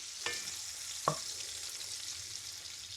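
Bacon frying in a pan, cooked for homemade baked beans, gives a steady soft crackling hiss throughout, with two sharp clinks or scrapes early on and no talking.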